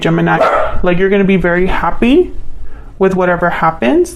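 A dog barks and yips in the background, several short bursts mixed under a woman's continuous speech during an indoor tarot reading.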